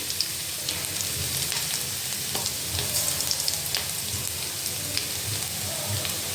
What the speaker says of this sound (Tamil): இது பூண்டு கொஞ்சம் பொரியட்டும்.